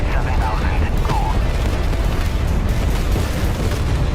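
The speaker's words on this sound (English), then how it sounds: "Even the radar went up from all the secondary concussive blasts of all the secondary explosions" Secondary explosions popping off after a GBU-12 bomb strike in a flight-combat game, a dense continuous rumble of low booms and concussive blasts with short bursts throughout, under faint voice chatter.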